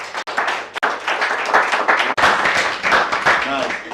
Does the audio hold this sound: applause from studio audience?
yes